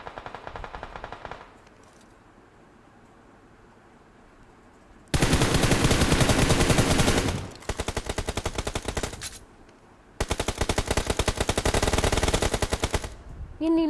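Rapid automatic gunfire from PUBG Mobile erupts in two long, loud sustained bursts, separated by a quieter stretch with faint clicks and a brief lull, heard close with no talk over it.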